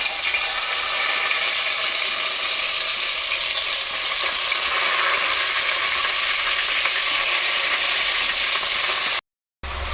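Stuffed brinjals fry in oil inside a pressure cooker, a loud, continuous hiss and sizzle that holds steady close up, cut by one brief dropout near the end.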